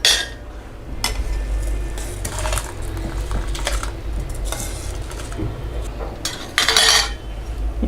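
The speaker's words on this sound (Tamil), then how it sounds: "இப்போ நம்ம அரிசியும் போட்டுக்கலாம்." Rice is tipped into a pot of cooking moong dal for sakkarai pongal, with close metallic clatter and rattling knocks of the vessel, the loudest bursts near the start and toward the end, and no talking.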